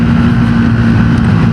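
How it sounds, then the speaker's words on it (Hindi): A steady low engine drone with a constant hum, loud and continuous, from a Triumph Tracker 400 motorcycle running close by, with no voices. "आवाज़ सुनने में इस बाइक की"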